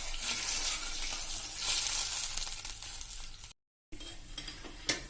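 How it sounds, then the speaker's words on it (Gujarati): A sugar tempering for instant khaman boils and bubbles in a pan, giving a steady close fizzing sizzle that eases off before a brief cut, then resumes with a few sharp clinks. "હવે મિત્રો આપણો વઘાર ઉકળે છે"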